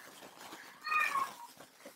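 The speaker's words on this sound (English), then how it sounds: "Ignore the screaming cat, y'all." A cat meows once, loud and drawn-out, indoors, standing out against a quiet background.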